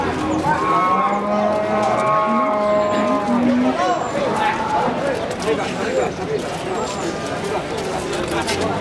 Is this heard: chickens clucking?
no